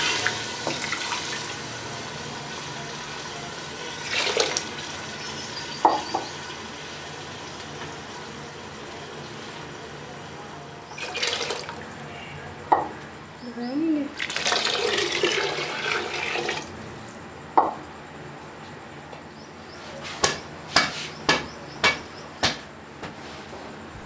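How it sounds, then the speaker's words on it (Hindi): Water poured over masoor dal in a pressure cooker, several bursts of splashing and gushing liquid between pauses, followed by a quick run of sharp metallic clinks near the end, close by. "दाल मसूर के ऊपर तक पानी डालेंगे।"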